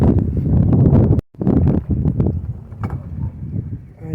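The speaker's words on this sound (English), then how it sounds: "Obviously the wind making them swing a little bit in the bottom," Wind gusts through greenhouse shade screens, heard as close, uneven rustling and buffeting that rises and falls, with a brief drop-out near the middle and no voices.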